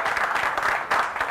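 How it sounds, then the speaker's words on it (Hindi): An audience breaks into applause, a brief burst of many hands clapping at moderate distance, steady and unbroken with no voices on top. "क्या तालियां"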